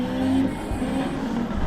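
Car in the Assetto Corsa driving game drifting on the Ebisu circuit, engine droning steadily with a handbrake pull and downshifts from third to second, tyre noise under a continuous motor tone.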